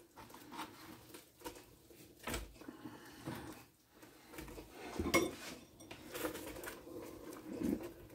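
Meatballs dropped into a hot pan on a home stovetop, giving soft scattered clinks and light sizzling patter with a few sharper metallic knocks of utensil against pan, close and fairly quiet with no talking.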